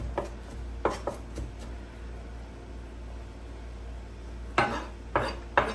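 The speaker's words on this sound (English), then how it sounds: "look at all that fresh garlic chopped up real nice and good" A knife chops fresh garlic on a cutting board for homemade salsa, a few crisp scattered strikes at the start, a quiet pause, then another short cluster of chops, close and without talk.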